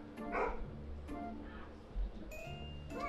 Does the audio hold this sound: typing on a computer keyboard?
no